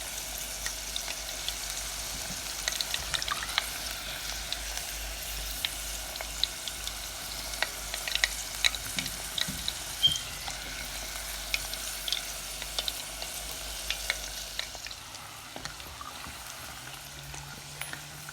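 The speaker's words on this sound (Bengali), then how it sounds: "বাকি সবগুলো এভাবে ভেজে নিচ্ছি।" Battered prawns deep frying in oil, a steady moderate sizzle with scattered crackles and pops throughout, no talking.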